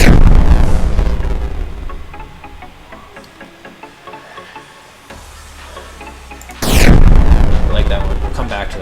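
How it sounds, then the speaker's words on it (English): Synthesized medium explosion effects for a JavaScript game play back as loud booming bursts with crackling, sizzling decay; two heavy blasts bracket a quieter stretch of popping crackle. "Medium explosion."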